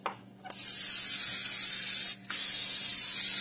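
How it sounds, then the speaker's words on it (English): Two long hissing bursts of cooking spray onto a 9 by 13 baking dish, close by, separated by a brief pause. "spray a 9 by 13 baking dish."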